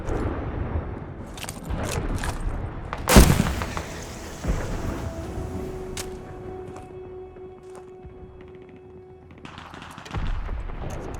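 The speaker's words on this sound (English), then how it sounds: "Des, fire the flare!" A flare launches in a Call of Duty: Vanguard battle with one sharp loud bang, then a whistling hiss trails off amid distant gunfire and rumbling battle noise.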